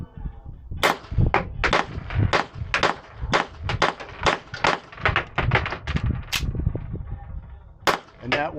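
A rapid string of close, loud gunshots from an Apollo 11 Compact pistol firing Syntech 150 coated bullets, with sharp cracks in quick bursts and short pauses, some echo behind them, and a final pair of shots after a brief gap.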